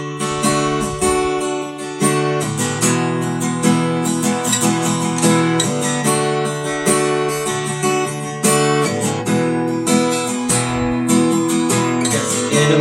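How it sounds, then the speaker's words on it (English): Acoustic guitar strummed in a steady worship-song rhythm, mixing downstrokes with upstrokes on the chords of Shout Unto God, played loud and close with sustained ringing chords and regular chord changes, no voice. "you can add some upstrokes so it'd sound like this."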